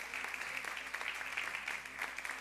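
A church congregation claps during an evening celebration service, a steady dense patter of many hands, moderately close and continuous without talk.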